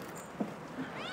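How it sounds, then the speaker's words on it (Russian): A kitten meows faintly indoors, one short cry partway through and a second soft one near the end, over quiet room noise with no talk. "Котенок."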